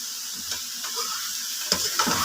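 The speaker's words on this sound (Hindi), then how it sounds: "और इसे अच्छे से फ्राई करना है इसमें।" Grated carrots fry in desi ghee for gajar halwa, a steady close sizzle with a few scraping stirs of a spoon in the pan.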